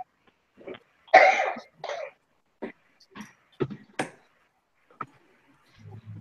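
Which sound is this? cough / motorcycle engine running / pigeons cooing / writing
cough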